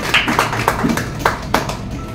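A handful of claps from a church congregation at a Sunday service, sparse and uneven, with separate claps rather than full sustained applause, fairly close and fading out after a couple of seconds.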